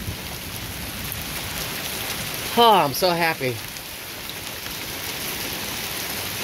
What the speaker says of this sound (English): You like that rain?